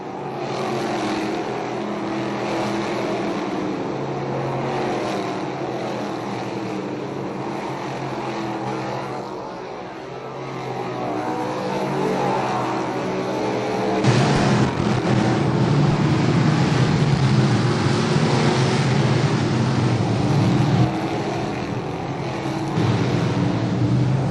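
DIRT Sportsman race cars lapping the dirt oval at Ohsweken Speedway and working through lapped traffic. A dense, continuous engine roar drones throughout and swells louder partway through.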